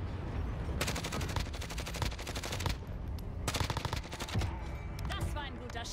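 Rapid automatic gunfire bursts crackle repeatedly in the Call of Duty Warzone battle on the Caldera map, with dense strings of shots separated by brief pauses and a few scattered single cracks, loud and up close.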